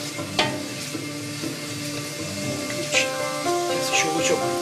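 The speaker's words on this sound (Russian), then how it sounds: "Сейчас еще лучок жарится." Onions sizzle and crackle steadily in a hot pan, with occasional clinks and tonal kitchen sounds mixed in.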